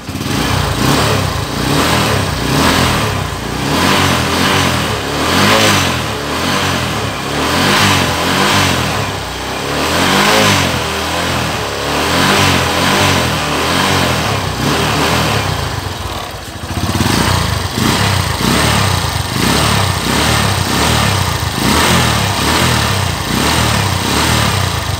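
A Honda New Megapro motorcycle engine, running after its fuel tank was drained and cleaned, is revved repeatedly in loud, close bursts that rise and fall rhythmically without talk.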